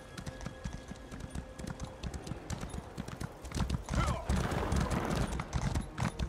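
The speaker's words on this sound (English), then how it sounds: "The red horse is always good." Horse hooves clip-clop in a rapid, steady rhythm in the Elder Scrolls Online game, moderately loud and continuous, with a brief whinny-like tone and a speaking voice partly over it.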